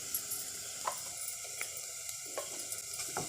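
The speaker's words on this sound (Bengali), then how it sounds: "এক চামচ হলুদ গুঁড়ো দিয়ে দেবো তেলের মধ্যে তেলের মধ্যে গুঁড়ো লঙ্কা দিয়ে দেবো দু চামচ" Fried onion with turmeric and chili powder sizzles in oil with a steady, moderate hiss, with light clinks and scrapes of a spoon stirring the pan at irregular intervals.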